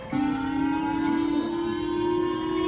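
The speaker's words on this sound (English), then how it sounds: "he kept blasting siren noises from his phone" A siren sound blasted from a mobile phone, one sustained rising electronic wail with strong harmonics, starting abruptly and holding loud and steady without talk.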